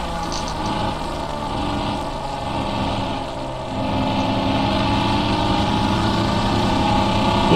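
Holden HQ sedan race car with a 6-cylinder engine and 3-speed gearbox in rFactor 2, droning steadily under load, then rising in pitch and loudness as it accelerates hard.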